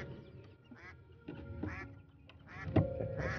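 Ducks quacking near a duck house, several nasal quacks in short uneven bursts that overlap and grow louder toward the end, close by over a rough outdoor background, with no speech.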